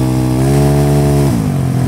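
A Yamaha Mio scooter with a 300cc engine revs hard and accelerates, its loud, close engine tone rising and holding before dropping sharply as the throttle eases or the gear shifts, all within about two seconds.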